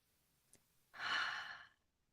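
Someone draws one soft, audible breath in the quiet of a group breathing exercise, heard alone and fairly faint, with a smooth breathy rush that swells and fades over about a second.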